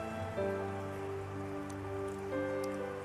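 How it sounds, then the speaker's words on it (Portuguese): Steady rain patters on a surface, a soft continuous hiss under sustained keyboard chords, with no talking. "Está chovendo, né?"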